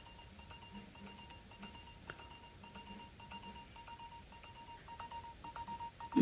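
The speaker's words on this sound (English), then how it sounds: "My phone is ringing." A telephone rings faintly indoors with a repeating electronic tone pattern against a quiet background.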